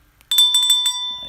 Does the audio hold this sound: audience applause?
no